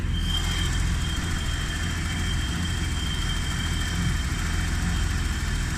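A 1990 BMW 735i engine idles with a steady, even rumble, close and continuous with no other sounds.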